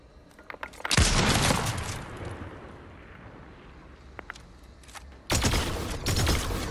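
Gunfire in Fortnite, two loud bursts of rapid shots with a quieter stretch between, the second burst near the end; no talk over it.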